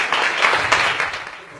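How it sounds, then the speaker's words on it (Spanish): A panel audience at a learning talk gives brief applause, a moderate burst of mixed clapping that swells and then fades out within a couple of seconds. "quiero pedir un aplauso para Pato Bichara, Carlos Novo y Adrián Hern"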